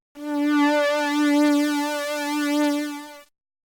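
A sustained retro synth tone from Serum with a chorus effect holds one steady pitched note for about three seconds, rich in even harmonics with a gentle shimmering wobble, then cuts off cleanly.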